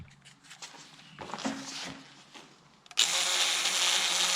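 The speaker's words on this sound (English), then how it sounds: "I'm gonna give this a little blast with the Dremel." A Dremel rotary tool cleaning a pressure washer carburetor starts up partway through, jumping to a loud, steady high-pitched whine after a second or so of handling and rustling.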